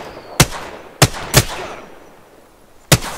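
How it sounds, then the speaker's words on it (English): Four sharp gunshots in the video game Apex Legends, close and loud, come at uneven intervals, the first three in quick succession and the last after a pause, with no talk. "Shot fired and hit me."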